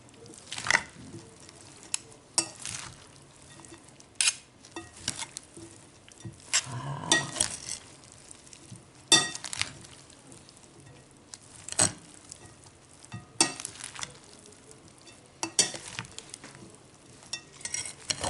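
Veal tongue and sauce are stirred together in a pan, giving a faint sizzle with repeated scraping and clinking of a utensil against the pan at an uneven rhythm, without talk.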